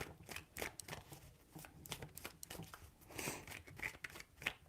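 Tarot cards are shuffled in quiet, close bursts of crisp riffling and slapping, irregular in rhythm, with no talking.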